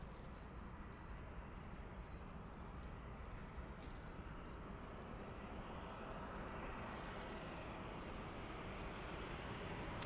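Boeing 747-400 airliner at Frankfurt airport, a steady broad jet roar held at an even, fairly loud level throughout with no speech over it.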